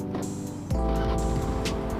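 A serviced scooter-style motorcycle with a freshly cleaned CVT idles close by, first a lighter hum and then a fuller, steady low drone from about the middle onward, with no knocking or clatter.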